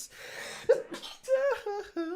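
A man gives a sudden, sharp sneeze, close to the microphone and then followed by a brief bit of talk.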